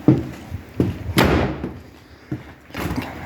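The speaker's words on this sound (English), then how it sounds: "Let me close this door." A door being shut inside a historic timber-frame building in Limerick, Maine, heard as a few close, heavy thuds and knocks, with the loudest impact at about the middle and quieter bumps before and after.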